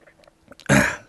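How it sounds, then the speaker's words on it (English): A single loud, harsh cough bursts out near the microphone after a moment of near silence, short and rough like a throat being cleared. "bad time for a cough"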